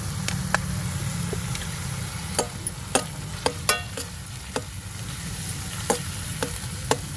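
Turmeric and spices frying in a pan for a drumstick tomato curry, a steady low sizzle broken by sharp scraping clicks of a spoon stirring against the pan, close and with no voices.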